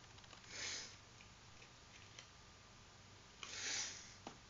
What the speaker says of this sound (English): And I can't stop sniffing because it's so cold outside.